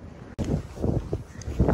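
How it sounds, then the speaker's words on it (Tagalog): Strong wind outdoors in the Netherlands on a dark evening buffets the microphone with a continuous low roar and gusty rumbles, briefly cut off near the start. "Super lakas ng hangin."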